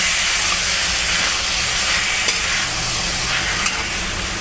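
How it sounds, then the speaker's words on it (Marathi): Chopped tomatoes frying in masala for a no-grind tomato chutney give off a steady, loud sizzle and hiss, with a couple of faint stirring clicks and no voices. "आता कापलेले टोमॅटो यामध्ये घालत आहे आता टोमॅटो पण परतून घ्यायचा आहे"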